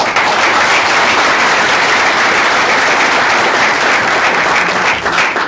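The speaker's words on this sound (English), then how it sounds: "a big round of applause for Aaron" An audience at a tech meetup applauds in a dense, sustained wash of clapping that stays loud and steady throughout, tapering slightly at the very end.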